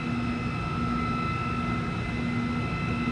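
An Okuma Genos M560-V vertical machining center hums steadily as it travels along its X, Y and Z axes, with a constant droning whine and tonal motor hum and no distinct starts or stops.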